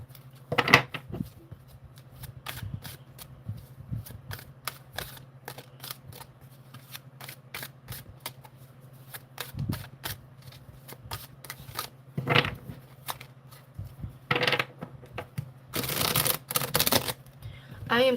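Tarot cards shuffled and flicked for a reading, sparse dry snaps and riffles scattered across a quiet room with a low steady hum beneath, building into denser, louder bursts of card noise toward the end.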